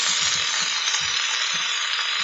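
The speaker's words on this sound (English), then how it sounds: "sizzling very nicely" Vegetarian breakfast food frying in a pan, giving a steady, dense sizzle that stays loud and even throughout, with a few soft low clicks and bumps underneath.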